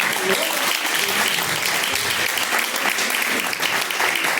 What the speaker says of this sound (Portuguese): recebamos o pastor com as palmas bem alegres